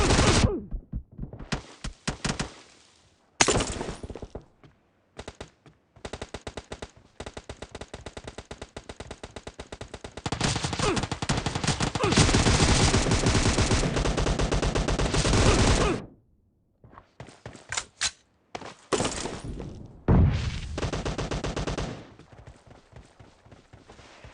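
Rapid automatic gunfire from the mobile battle-royale game PUBG Mobile, loud bursts of varying length with a long sustained volley in the middle and shorter clipped salvos before and after, no talk.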